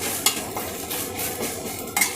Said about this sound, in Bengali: এই দেখুন পাতাটাকে ভালো করে একটু ভেজে নিতে হবে।